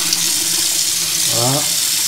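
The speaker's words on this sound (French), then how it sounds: "on va mettre un peu d'eau chaude dans le verre" Hot water pours from a tap into a glass for cleaning with white vinegar, making a steady, close rushing splash that holds for about two seconds, with a brief tonal swell near the end.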